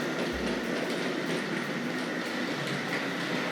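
A Tri-ang Hornby Dublo model train runs steadily into the sidings of a layout with an elevated section, giving a continuous close whirring rumble with light rhythmic clicking of wheels over track joints.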